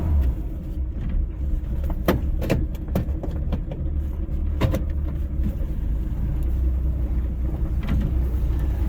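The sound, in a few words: 1960 Rambler American car driving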